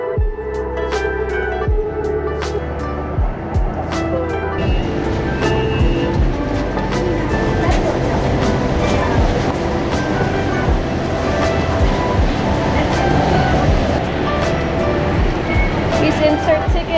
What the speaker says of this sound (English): Taking the train to the Siam area.